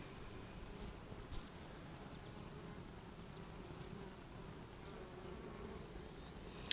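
Honey bees buzz steadily around an open hive during a June inspection, a soft, continuous low drone with no voices, close and even throughout.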